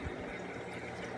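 An eShop RS75 aquarium sump running under a reef tank, giving a steady, continuous gurgle and wash of flowing water at low, even volume with no voices.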